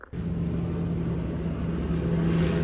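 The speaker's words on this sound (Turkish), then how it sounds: "Arkadaşlar gördüğünüz üzere şimdi helikopter Soğan'a gidiyor." A helicopter flies over during a wildfire near homes in Bodrum, making a steady rumbling drone with a low whirring hum that starts abruptly and holds constant, fairly close and loud, with no voices.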